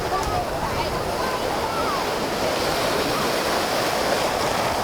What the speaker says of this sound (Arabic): النهارده احنا في شاطئ الجونه في منطقه الأبيض غرب مرسى مطروح